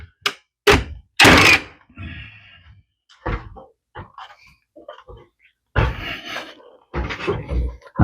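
Nail gun firing nails into metal joist hangers on roof trusses, a handful of sharp loud thunks in uneven bursts, close by, with a few quieter knocks and handling noises between them.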